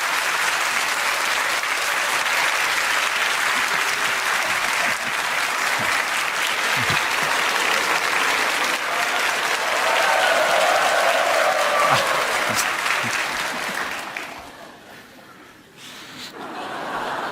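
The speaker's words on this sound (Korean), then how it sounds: "큰 박수로 그렇게 격려해 주시면 감사하겠습니다" A church congregation at a Holy Week revival service gives big applause to welcome a pastor to the pulpit, steady full-room clapping for about fourteen seconds before it dies away.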